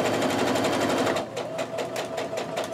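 A sewing machine stitches quilt pieces, its rapid needle chatter loud and steady at first, then slowing to a looser, more distinct pulsing rhythm partway through.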